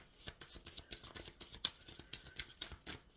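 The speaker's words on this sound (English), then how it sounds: "Now, Spirit, I'm shuffling for the collective." Tarot cards being shuffled by hand in rapid, crisp riffling bursts, close and fairly quiet, with no talking.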